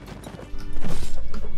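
Horse hooves clatter in a Warband video game castle siege, with rapid loud clip-clop impacts and crashing battle noise rising into a dense, rhythmic pounding.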